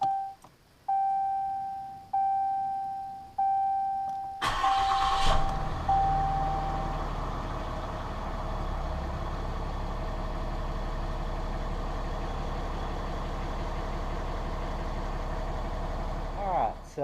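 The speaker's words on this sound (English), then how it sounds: "then I'll start it, let it run for just a little bit till I'm comfortable all the air is out of the system" A 2015 Ram pickup with a 6.7L Cummins diesel gives several evenly spaced warning chimes, then cranks and fires into a steady, rumbling idle that runs on alone.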